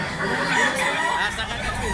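Several roosters crow over one another amid a busy, noisy crowd at a livestock market in Lipa, Batangas, loud and close, with people chattering in the background.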